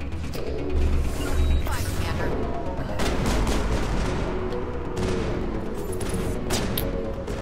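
Shotgun fire in the Mass Effect video game sounds as dense, loud blasts over continuous combat noise and explosions throughout, with no clear gaps between the shots.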